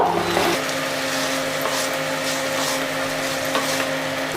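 Cooked rice is stirred into a dried spice mix in a hot pan, giving a steady sizzle and scraping under a constant background hum.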